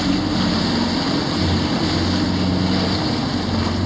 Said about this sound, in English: The one cloud got this wind blowing pretty good